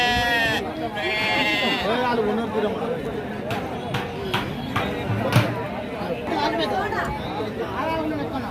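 Goats and sheep bleat repeatedly at Gangadhara livestock market in Karimnagar district, Telangana, with overlapping calls near and far over a steady crowd chatter and people talking.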